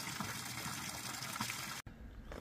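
Steady running water from a drinking fountain on a hike through Gorropu Gorge near Dorgali, Sardinia, a continuous close trickle filling the space, briefly cut off near the end before resuming.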